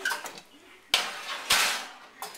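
Metal pans clatter and scrape in a couple of sharp, close bursts, with softer handling noise between them.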